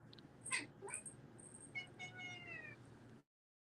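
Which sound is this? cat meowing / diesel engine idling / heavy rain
cat meowing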